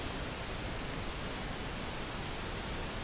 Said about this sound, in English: when you look on the spectrum analyzer at the pink noise